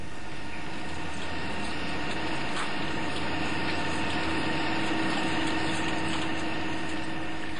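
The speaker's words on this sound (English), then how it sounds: "This is carried out with a standard tungsten carbide facing a turning tool." A turret lathe turns a drive shaft with a tungsten carbide facing and turning tool, giving a steady, even machine hum with faint tonal whine that holds throughout without pause.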